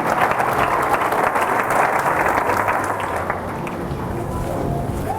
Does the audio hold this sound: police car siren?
no